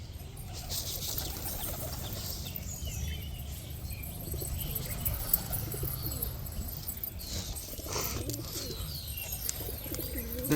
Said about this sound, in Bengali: ওই পায়রাটা দেখো ওকে তাড়া করছে